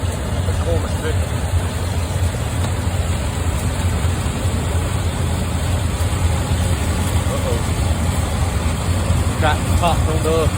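An Allis-Chalmers D17 tractor with a cab running a McCormick International corn picker, a continuous low mechanical engine drone with steady rumble at moderate loudness, and someone talking over it throughout.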